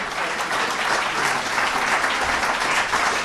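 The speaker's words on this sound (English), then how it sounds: "Let's have another round of applause for our guests tonight." An audience at an evening book talk claps for the guests, a dense, steady round of applause holding at a strong, even level throughout.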